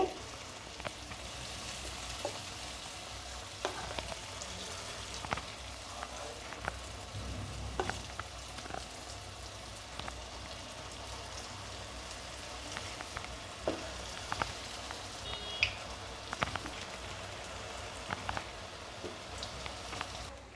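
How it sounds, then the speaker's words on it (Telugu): Continuous crackling sizzle of sweet stuffed dumplings deep frying in oil, dense popping bubbles at a steady moderate level with no talking. "పూర్ణాలని ఇలా అన్ని వైపులా మంచి కలర్లో ఫ్రై చేసుకున్న తర్వాత ఆయిల్ నుంచి తీసేసుకోవాలి"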